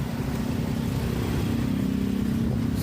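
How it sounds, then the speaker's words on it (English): Cars pass in nearby traffic, heard as a continuous low engine rumble and road drone that holds steady throughout, with no speech. "good luck with this noise here coming from cars passing through my side"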